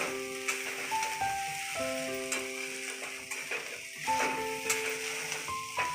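Veg fried rice being gently stirred and tossed in a pan, with a steady sizzle and soft scraping strokes throughout, under a sustained melodic tone backdrop.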